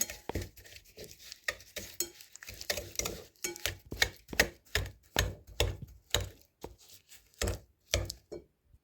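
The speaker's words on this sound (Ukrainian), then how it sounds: "Оце все потрібно перетерти вінчиком." A whisk in a bowl rubs sugar and salt together, making quiet rhythmic scraping strokes, about two a second, that repeat steadily and close by.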